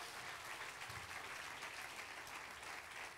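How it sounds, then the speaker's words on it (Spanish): Church congregation clapping in praise, a dense, continuous round of applause from many hands, fairly faint and even throughout. "Demos palmas de alabanza al Señor"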